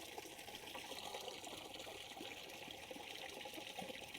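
Water from a garden hose gushes steadily into a funnel outdoors, a soft continuous splashing trickle heard fairly faintly with no talking.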